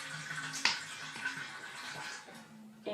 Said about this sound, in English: Then I'm going to do the dishes